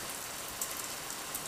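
Rain falls steadily as a soft, even hiss of drops on a surface, faint and continuous, with a few slightly louder patters and no voices.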